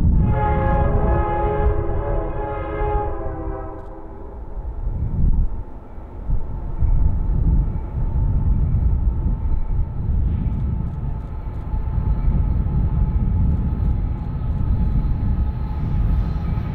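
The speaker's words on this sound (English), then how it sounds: "Continuing to follow the tracks up the hill beyond Echo yielded another descending intermodal in" A Union Pacific intermodal freight train descends a mountain grade, its horn sounding in long harmonic blasts at the start before the steady rumble and rolling clatter of cars carry on loudly and continuously.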